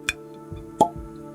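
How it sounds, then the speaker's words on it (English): A bottle of Elijah Craig 18 year bourbon is uncorked at close range, with two short hollow pops about a second apart and a few soft knocks in a quiet room. "Get this cracked open here."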